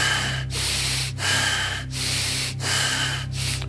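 Deep, fast, rasping breaths demonstrated during a guided meditation, a steady run of loud, close inhalations and exhalations in regular cycles of about half a second each, heard alone with no talk.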